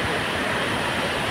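Jogini waterfall near Manali pours down steadily, a dense broadband roar of falling water that stays close and loud throughout with no voices over it.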